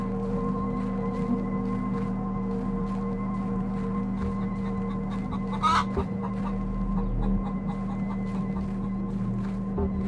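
Roosters in a video game cluck in a steady series of short, repeated calls over a constant droning background, moderately close, with no speech.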